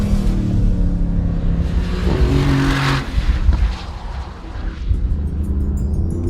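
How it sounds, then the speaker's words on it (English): A Porsche 911 GTS with a 7-speed gearbox drives past, its exhaust giving a loud, deep engine roar that rises and falls as it accelerates and shifts, with a brief throaty surge midway. "it's the GTS that delivers on acceleration and a godly menacing exhaust note"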